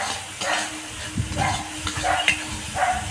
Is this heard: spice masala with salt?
yes